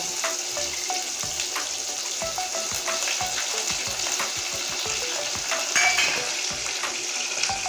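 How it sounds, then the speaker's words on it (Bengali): Chopped onion and green chilli frying in hot oil, a steady close crackling sizzle with repeated sharp ticks and spatters throughout, swelling briefly near the end; no voices. "পেঁয়াজটা এবার দিয়ে দিচ্ছি তেলে। আর পেঁয়াজের সঙ্গে কাঁচা লঙ্কাটাও দিয়ে দেব।"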